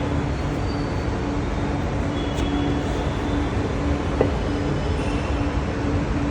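A Chennai Metro train stands at the Airport station, a steady loud rumble of rail and ventilation noise with faint squeaks and a soft clank, no talk.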